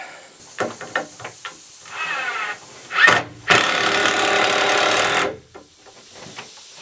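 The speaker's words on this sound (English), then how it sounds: "Now I can drill those in." A power drill drives screws into timber wall framing, giving a short burst followed by a loud, steady whir of about two seconds, with faint bumps and handling noise around it and no talking.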